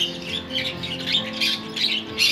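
Turquoisine parrots squawking in an indoor breeding setup with nest boxes, giving repeated bright, harsh calls in short bursts over a steady low room hum, fairly close and moderately loud.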